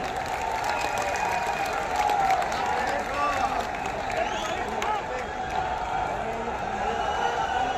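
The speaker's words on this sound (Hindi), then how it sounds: "एक बार जोरदार तालियों से स्वागत करें" Loud, sustained applause from a large crowd at a Sanatan Dharma Sansad gathering in Delhi, welcoming a speaker; dense steady clapping fills the whole stretch with a murmur of voices and cheering mixed in.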